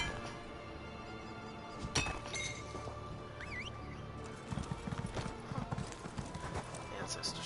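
Horse hooves clip-clop steadily in Elder Scrolls Online as the mount sets off, a fairly close rhythmic trot under ambient game sound with a person talking.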